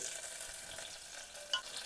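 Slit green chillies frying in hot coconut oil in a pan for Kerala inji curry, giving a steady, fairly quiet sizzle and crackle throughout, with one brief sharper pop near the end and no talking.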